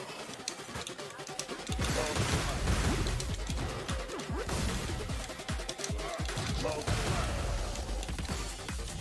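A flaming grenade blows up in the Streets of Rage 4 beat-'em-up, set among a steady barrage of loud crashing hits and bursts that run almost without pause through a busy brawl.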